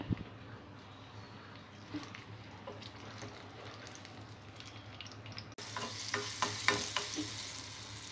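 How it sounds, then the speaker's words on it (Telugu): Mustard seeds, garlic and dried red chillies sizzle in hot oil in a pan for a curry leaf chutney, with steady frying crackle and occasional stirring scrapes, growing brighter and louder toward the end. "తాలింపు బాగా ఫ్రై అయిన తర్వాత"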